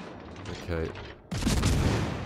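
Video game battle gunfire, with a burst of shots and then a louder rush of rapid firing, close and dense with no talk over it.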